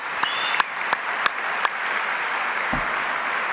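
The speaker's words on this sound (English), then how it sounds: "how about one final round of applause for our amazing hosts" A crowd applauds at the 2025 Eureka Prizes award ceremony, with steady dense clapping and a few sharper individual claps standing out near the start.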